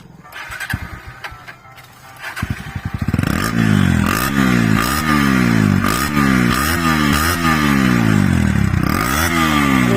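Bajaj Pulsar NS motorcycle with its silencer cut and rewelded starts up after a quiet opening and then revs loudly and repeatedly, each throttle blip rising and falling in a steady, rough, close-up roar.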